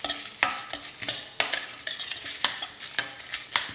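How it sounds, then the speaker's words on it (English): A spoon stirs cumin seeds, asafetida, red chilies, bay leaf and turmeric in a hot oiled pan, giving repeated sharp metallic scrapes and taps over a faint sizzle. "we are going to put the asafetida, red chilies, bay leaf and turmeric. Just stir for a second."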